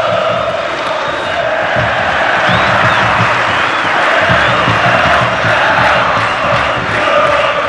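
Fluminense supporters in a packed football stadium during a Copa Libertadores quarter-final against São Paulo roar and cheer loudly and continuously, with whistles and chanting rising and falling across the dense crowd noise.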